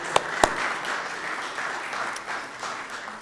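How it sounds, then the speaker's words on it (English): Applause from an audience at a University of California, Los Angeles panel event, a steady wash of clapping with a couple of sharp near claps early on, fading slightly toward the end. "A round of applause."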